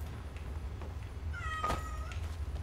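A cat in the video game Skyrim gives a single clear, drawn-out meow midway through, heard over a low steady rumble of game ambience.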